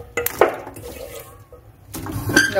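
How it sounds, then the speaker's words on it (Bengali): Water poured into a wok holding cauliflower and potatoes set to boil, with splashing bursts and clattering of pan and utensils, close and fairly loud, pausing briefly in the middle. "এই কড়াইতে জল দিয়ে দিলাম কপিগুলো, কপি আলু সব দিয়ে দিচ্ছি"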